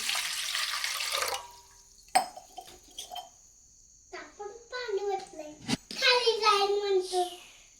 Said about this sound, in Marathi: या पातेल्यात आपण पाणी वतलं बघा अजून ओतायचं आपल्याला पाणी